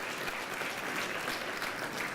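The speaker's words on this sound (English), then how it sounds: "Yes, indeed, a round of applause." Steady round of applause from a gala dinner audience, dense and even from start to finish, a sustained wash of many hands clapping at moderate distance with no voices rising above it.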